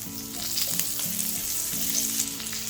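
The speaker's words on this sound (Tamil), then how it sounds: "இதெல்லாம் வந்து இந்த உளுத்து வந்து ப்ரௌன் ஆகிற வரைக்கும் நம்ம சாட்டே பண்ணிக்கணும்" Mustard seeds, asafoetida, urad dal and curry leaves sautéing in hot oil for a spicy potato fry, making a steady, moderately quiet crackling sizzle that runs continuously with light stirring.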